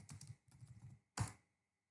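Fast keystrokes on a computer keyboard typing a short command, two quick bursts of clicks followed by a louder single press, likely the enter key, close by with no talking.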